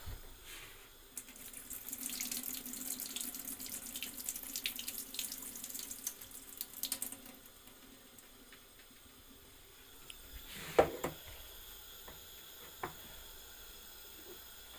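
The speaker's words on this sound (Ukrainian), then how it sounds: "І знову зливаю водичку." A steady stream of water runs and splashes from a jar of pickled cucumbers for several seconds, then thins out, with a few clinks and knocks afterward.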